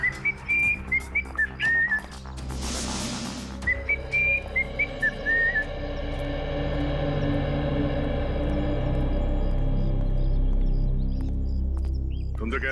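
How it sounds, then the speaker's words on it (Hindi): A person whistles a jaunty tune in short melodic phrases, pausing for a burst of noise, then carries on over a steady background hum. "बड़े आराम से सीटी बजाते आ रहे हो"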